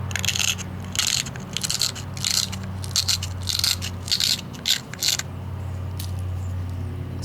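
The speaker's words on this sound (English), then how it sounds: "Let's say you just want to, you know, grind this edge back." A stone is ground against the edge of a large stone biface in loud, close, rhythmic rasping strokes, about a dozen quick scrapes in a row before the grinding stops.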